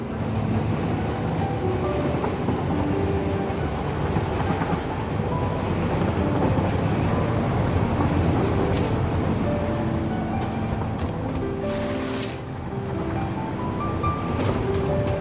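A train rolls steadily through the Satisfactory factory world, a continuous loud rumble of wheels and carriages with faint clickety-clack and scattered higher clanks over it, no talking.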